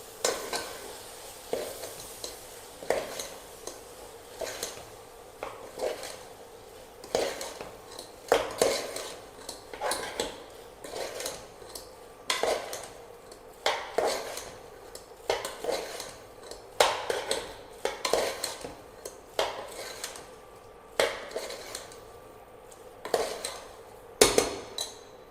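A spoon stirs curd into a soya chunk (meal maker) curry in a pan, with repeated clanking scrapes against the metal in an irregular rhythm over a faint sizzle, close and fairly loud, no talking.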